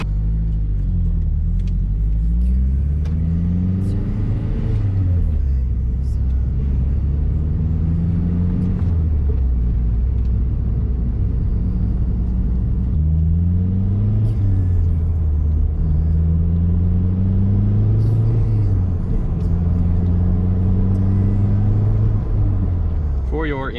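A Mazdaspeed 3 drives on a road test after a valve cover gasket and spark plug job, its engine rumbling loud and close and rising and falling through repeated gear changes under steady road and cabin noise.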